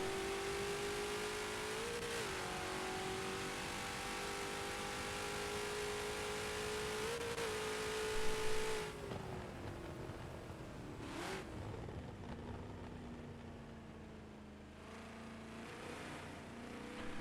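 In Forza 7 at Sebring International Raceway, race cars blast down the straightaway with a loud, steady engine drone and brief gear shifts, then the pitch drops as the car backs off and the sound thins out.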